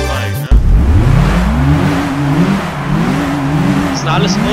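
Revving car engine from Gran Turismo 3 racing gameplay, a Toyota MR2 among the cars, droning steadily with rising and falling pitch throughout, under someone talking over it.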